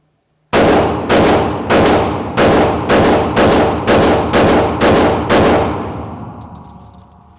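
Nine loud, evenly spaced shots ring out from a Hi-Point JXP10 10mm pistol at a shooting range, each one sharp and close, with the last shot fading into a lingering echo.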